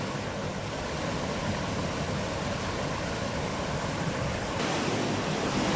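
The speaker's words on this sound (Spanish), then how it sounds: "podemos encontrar este tipo de rápidos, los cuales pueden ser un poco peligrosos" Rushing rapids on the Río Claro in dense forest near Campo Alegre, Antioquia, with a steady, loud broadband roar of churning water throughout and no voices.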